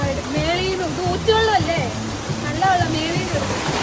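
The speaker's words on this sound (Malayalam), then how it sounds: "മലയുടെ മുകളിൽ നിന്ന് വരുന്ന വെള്ളമാണ്" Stream water rushes steadily down from a mountain in monsoon rain, a constant close wash of noise under a person talking.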